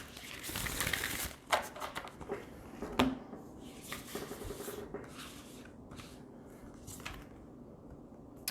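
Tarot cards being shuffled close by in quick riffling bursts and soft rubbing, louder at first and then fading to lighter, scattered shuffles.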